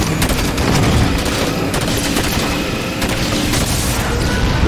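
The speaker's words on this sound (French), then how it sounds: "Envoie-lui quelques tirs et dégage de là en vitesse." Heavy gunfire and booming explosions from a Halo 5 Guardians battle as a generator under a hangar is shot and destroyed, a loud continuous barrage of rapid shots and blasts with no talk.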